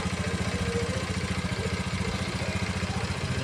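A small motorcycle engine idles steadily nearby, its low, even putter running unbroken with no voices over it.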